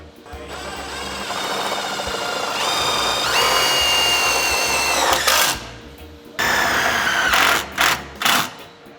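Power drill driving self-tapping screws into a Mercedes Sprinter van while side steps are installed, with a sustained whirring motor that rises in pitch, then several short separate bursts as each screw seats.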